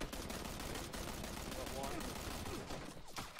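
Rapid gunfire in the battle-royale game PUBG, a dense stream of shots running continuously for several seconds beneath loud, overlapping talk.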